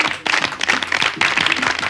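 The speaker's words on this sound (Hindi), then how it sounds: "हम दो लौटे ताली बजा रहे हैं," Hand claps from two people on a Hindi comedy show set, a dense run of overlapping claps, fairly loud and close, with no talk over them.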